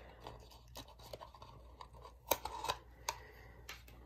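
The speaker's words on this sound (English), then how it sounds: "And then I cut the excess off." Scissors snip the excess birch bark off a handmade basket, a series of faint, close crisp cuts and crunches, several sharper clips clustered near the middle, with no talking.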